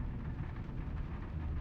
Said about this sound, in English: Oh, lovely sound of rain.